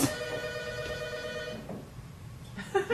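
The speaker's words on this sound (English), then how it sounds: "It's the telephone again." A telephone bell rings in a stage play, a steady repeating ring for about a second and a half, then quieter room noise with a brief clatter near the end.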